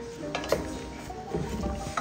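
Food being stirred in a pot, with soft scraping and a light clink of a utensil over a low simmering sizzle.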